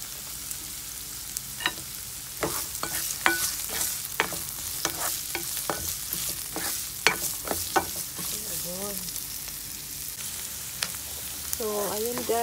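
Garlic sautéing and being stirred in a pan for chicken feet adobo, a steady sizzle broken by frequent sharp scrapes and clinks of a utensil against the pan, close and fairly loud with no talking.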